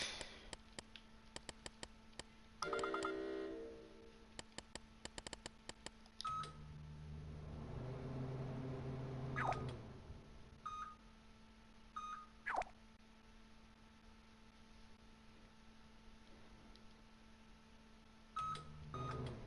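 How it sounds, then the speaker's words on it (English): A microwave in a LittleBigPlanet 3 level gives short electronic beeps in quick runs of keypad-like tones, then settles into a faint hum with scattered clicks and a few more beeps near the end. "it's got those beeping sound effects and I actually don't like those"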